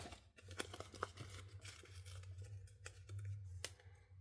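Paper pieces for a handmade fall card are cut in a run of short, crisp snips and light rustles, close and fairly quiet, over a faint steady low hum.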